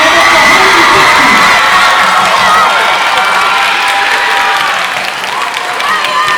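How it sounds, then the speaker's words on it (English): Audience at a spring school band concert applauding the musicians on stage, sustained dense clapping mixed with cheers, whoops and children shouting, loud and close throughout. "Let's give one more round of applause for all the musicians on stage."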